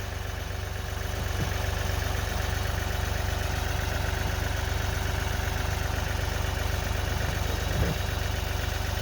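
A tractor engine idles in the snow with a steady low rumble and drone while working a grapple attachment, and two faint clunks come near the start and near the end.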